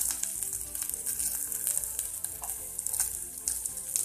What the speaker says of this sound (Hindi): अब इसमें हमने जो लहसुन लिया था वो ऐड करेंगे